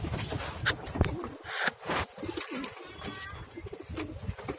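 A pigeon coos softly at close range among other birds, a few low repeated calls over faint rustling and shuffling at a backyard loft where young birds are being fed.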